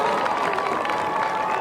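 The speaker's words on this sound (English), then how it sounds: "A good crowd, boisterous crowd." A boisterous crowd fills the stands at a 1984 high school football game, East Brunswick against JP Stevens, a steady distant roar of chatter and cheering with faint voices mixed in.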